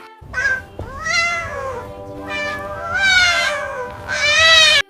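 A cat meows four times in a row, loud and close, each call drawn out and rising and falling in pitch.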